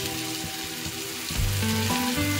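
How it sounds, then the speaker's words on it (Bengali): Soaked whole spices drop into masala frying in oil for a brinjal and tangra fish curry, a close, steady sizzle that swells as they hit the pan. "এবার আমি যে ভিজিয়ে রেখেছিলাম যে পুরো মশলাগুলো, সেটা আমি দিয়ে দিচ্ছি।"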